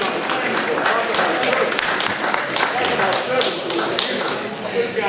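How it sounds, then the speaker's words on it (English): A round of applause fills a town meeting hall, dense steady clapping from many people that holds for several seconds with no break. "That deserves a round of applause"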